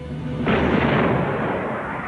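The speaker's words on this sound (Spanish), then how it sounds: "El Hood hizo los primeros disparos y luego le siguió el Príncipe de Gales" Heavy naval gunfire from the battleships Hood and Prince of Wales: a single loud, booming blast that rolls out into a long rumbling decay, with no voices.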